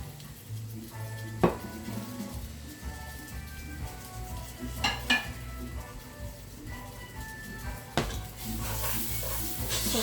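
Red beans going into a hot pan and being stirred, with a quiet sizzle under clinks and scrapes of a utensil against the pan, and a burst of louder frying toward the end.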